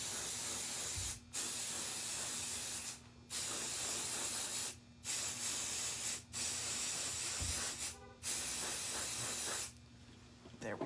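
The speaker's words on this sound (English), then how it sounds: "So I'm gonna spray the mold." An aerosol spray hisses in repeated long bursts onto a mold for making charms, each blast a loud, steady rush lasting a second or two, separated by brief pauses, up close.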